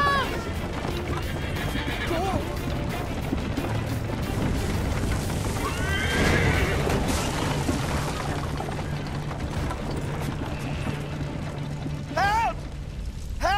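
In Assassin's Creed III: Liberation, horses neigh and hooves pound amid crashing, rumbling game effects, with people shouting over the chaotic action.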